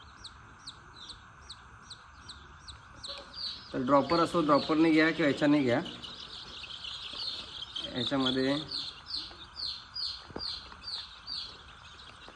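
Chicks of a desi backyard flock cheep in rapid, high repeated peeps throughout while being handled for Lasota vaccine drops, with someone talking over them in two stretches.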